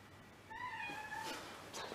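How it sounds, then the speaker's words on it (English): A cat gives a single drawn-out meow, faint and somewhat distant, in a quiet room with low background hiss. "it wasn't the cat because the cat was meowing"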